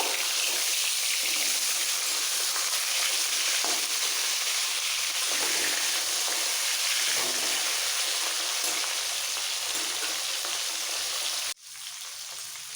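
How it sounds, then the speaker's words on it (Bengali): Loud, dense sizzling of rohu fish heads frying in hot oil fills the clip steadily, dropping off abruptly near the end before resuming more softly. "মাছের মাথার দুটো পিটি কড়া করে ভেজে নেব"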